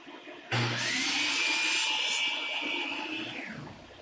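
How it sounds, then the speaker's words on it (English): A miter saw cuts flat wooden rails for a custom egress window cover: the blade whines up sharply, holds a steady buzzing cut for about three seconds, then spins down, loud and close with no talking. "head back over to the miter saw station and make the final 2 cuts"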